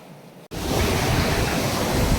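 Sea waves wash onto a beach in Kutch, a loud continuous roar of surf and wind close to the microphone after a brief quieter moment at the start.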